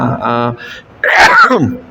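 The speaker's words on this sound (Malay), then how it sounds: "Jarang aku bersin ceramah ni" A man sneezes in the middle of a religious lecture, a single sharp burst close to the microphone. Speech comes just before and after it.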